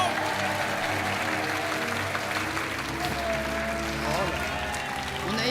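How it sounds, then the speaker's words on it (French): Studio audience applause on a French TV game show as two contestants leave, a dense sustained clapping bed with music playing underneath and voices talking over it. "On vous laisse repartir sous les applaudissements."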